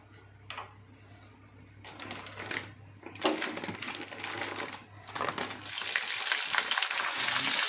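Farm-fresh crickets frying in hot oil, part of a one-kilo batch, give a crackling sizzle that comes in bursts and then swells into a loud, continuous roar as more go in, with no voices.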